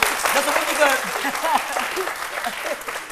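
An audience claps in steady, moderately loud applause that carries through the whole short stretch, with voices mixed in beneath the clapping.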